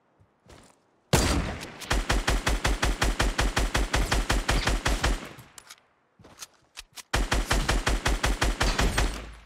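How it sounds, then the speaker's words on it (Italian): Rapid automatic gunfire from Fortnite headshots, loud, close bursts of evenly spaced shots, one short burst then a long sustained volley, a brief pause, and another sustained volley. "Che bello il rumore del headshot alla mattina."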